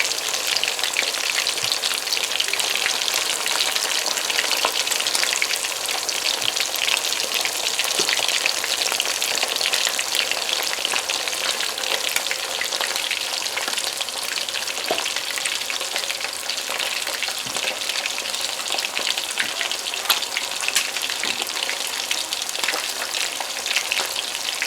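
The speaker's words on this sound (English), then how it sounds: "So you just want to fry the other side just like this here" Fish frying in a pan gives a dense, continuous crackling sizzle with fine spitting pops, steady and close throughout with no voices.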